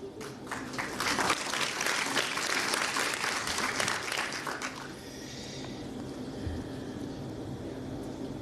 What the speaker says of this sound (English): Let's give Nova NAM a round of applause